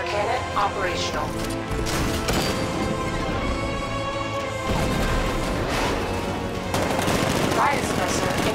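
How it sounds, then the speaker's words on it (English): Cannon fire and heavy impacts from a 60mm tank gun in the Batman: Arkham Knight video game, loud repeated blasts with crashing debris and mechanical clatter under in-game voices and dense combat noise. ".60mm cannon operational."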